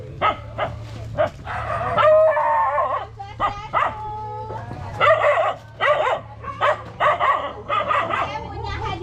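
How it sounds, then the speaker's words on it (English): Several puppies bark and yip close by in a repeated burst of high, excited calls with short pauses between volleys, over a low steady background hum. "Oh, look at the puppies."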